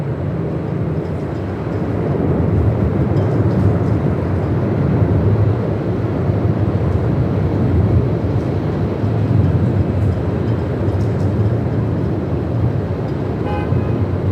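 Airliner taking off at Melbourne Airport in gusty 45-plus-knot winds, a loud, sustained jet roar mixed with heavy wind rumble, steady and continuous for the whole stretch.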